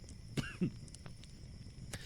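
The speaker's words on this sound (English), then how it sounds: "God, this fucking cough, I hate it so much." Two short, close coughs in quick succession, then faint background hiss; quiet overall.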